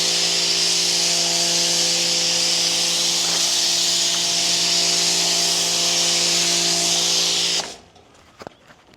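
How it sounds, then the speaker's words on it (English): A Giraffe Tools Grandfalls pressure washer soap cannon sprays suds onto a car in a loud, steady hiss with a faint motor hum beneath, running continuously for several seconds before cutting off abruptly, leaving quiet handling noises. "We're going to go ahead and spray our car with soap."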